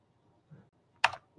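Keystrokes on a computer keyboard while a debugger command is entered: a soft tap followed by a sharper, louder click, close and isolated in a quiet room with no speech.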